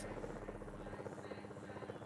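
A helicopter in the Need for Speed IV video game gives a steady, fast rotor chop and engine buzz that holds at an even, moderate level throughout.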